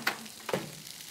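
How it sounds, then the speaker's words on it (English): Bacon sizzles as it is pressed with a clothes iron, a close, crackling fry with two sharp pops of hissing spatter over a steady low sizzle, no voices. "Carry on ironing this bacon."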